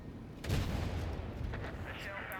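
Heavy booming tank cannon blasts in the video game World of Tanks roll out in a dense, rumbling barrage, with chaotic battle noise and a voice speaking over it.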